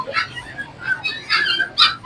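Dogs whimper and yip in short, high bursts, fairly close, at a pet market, mixed with faint background chatter.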